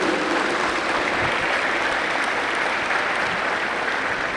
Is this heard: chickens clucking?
no